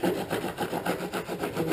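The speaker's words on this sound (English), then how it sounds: "Trimming the edges off the SilvaGrip now." Grip tape being trimmed off the edges of a longboard deck, a rhythmic back-and-forth rasping and scraping, about eight strokes in under two seconds, close and fairly loud with no talk.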